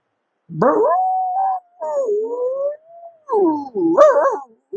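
A voice imitates a dog howling, with long wavering mournful wails rising and falling, close and clear against silence.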